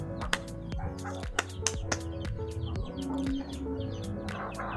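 A rooster clucks and calls amid a busy farmyard with hens, other birds and a dog barking now and then, no voices.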